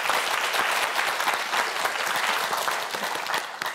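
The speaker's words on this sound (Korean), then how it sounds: "두 학생을 위해서도 여러분 힘내라고 박수 한번 보내주세요" A studio audience on a Korean TV quiz show claps for two student contestants, a dense, steady burst of applause at close range that fades slightly toward the end.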